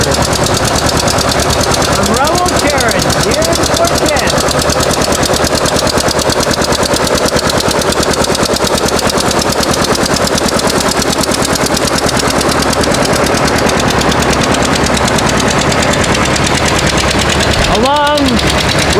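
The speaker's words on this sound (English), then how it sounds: "And the distinctive sound of a John Deere tractor from Raoul Caron here in Fort Kent." Vintage John Deere tractor rolling past in a Fort Kent parade, its engine putting out a steady rapid popping chug throughout, mixed with crowd noise and scattered voices, with a louder brief burst near the end.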